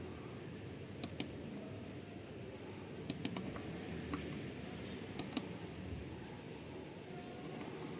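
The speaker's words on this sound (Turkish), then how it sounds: "Bütün tuşlara basıyorum." Keys are pressed in quick pairs on an Acer Aspire Lite AL16-51P-580H laptop keyboard, faint sharp clicks every two seconds or so over a low steady background rumble.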